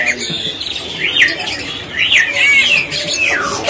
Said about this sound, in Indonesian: Ini ada burung trucuk nih, posisinya udah pada rajin bunyi banget aja.